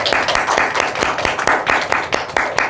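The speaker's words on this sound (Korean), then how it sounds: "하나님께 영광의 박수 올려드리십시다" Congregation applauding during a church service, a steady wash of many hands clapping with a loose rhythmic pulse, fairly loud and close, with no talking over it.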